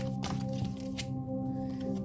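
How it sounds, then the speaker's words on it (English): Tarot cards being shuffled make a few soft, brief rustling bursts over a steady low background hum. "Let me shuffle again."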